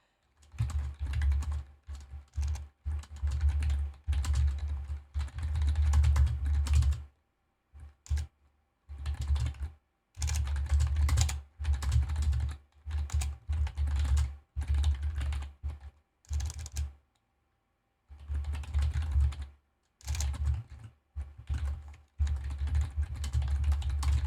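Computer keyboard typing during a sim racing broadcast at Monza, close and steady, with bursts of rapid keystrokes broken by a few short pauses over about twenty-four seconds.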